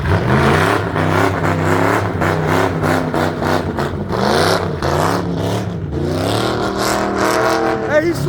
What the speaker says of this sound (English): Rev that shit.